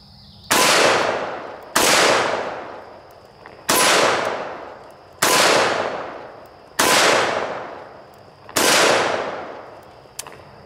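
Six loud, evenly spaced shots from a Taurus Raging Hunter revolver firing .357 Magnum at a steel target 15 yards away, each a sharp crack with a long ringing decay, outdoors with no talk.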